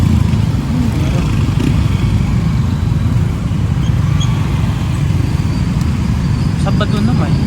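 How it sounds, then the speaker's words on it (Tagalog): Dense road traffic of many cars and motorcycles streams past in a steady, loud roadway roar that continues without a break, heard from a moving motorcycle in Pampanga. "Ba't ang dami yung sasakyan?"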